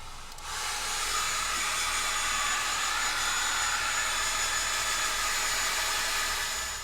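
A dryer blowing on a layer of a bald cap, a loud steady airy whoosh that starts abruptly and holds close and continuous with no talking.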